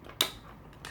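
A single sharp metallic snip from a cuticle cutter, close and brief, followed by a quieter click a moment later against a faint room background.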